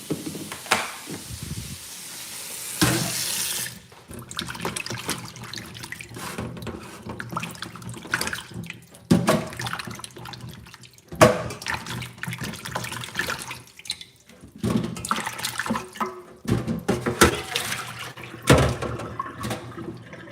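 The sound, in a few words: washing food under running tap water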